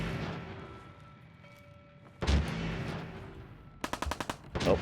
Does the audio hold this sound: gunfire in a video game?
yes